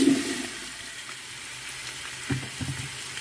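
Chopped onion dropped into hot oil in a pan while cooking a cabbage dressing for borscht, giving a steady close sizzle and crackle with a few louder bursts of spattering.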